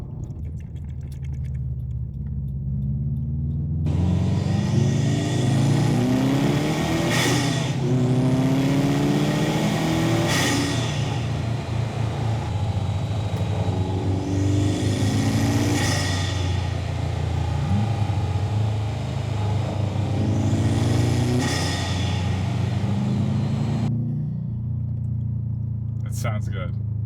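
Subaru STI engine fitted with a COBB carbon fiber intake revs hard four times in a row, each rise and fall loud and close, over a steady rumbling idle.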